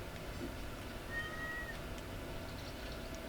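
A cat meows in the Stardew Valley farming game in winter: a single short meow rising briefly above steady game music and ambient background, moderately loud, with no talking.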